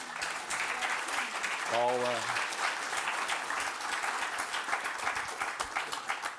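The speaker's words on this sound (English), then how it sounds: "So a big applause, Paola." Sustained applause from a conference audience at a cybersecurity forum, steady clapping throughout, with a brief voice heard over it early on.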